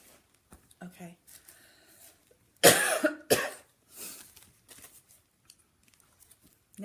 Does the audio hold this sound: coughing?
yes